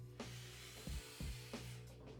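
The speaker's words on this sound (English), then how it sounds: "I begin with short jabs, and once I feel the file beginning to tear, I lengthen them out" Steel file rasping in short, then longer strokes along the edge of a ski's plastic base during tuning, a few rough scraping bursts close up with low thumps between.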